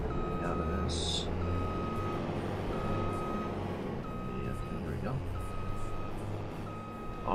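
A tractor reversing in the Farming Simulator video game, sounding a steady series of evenly spaced reversing beeps over a loud, constant engine rumble.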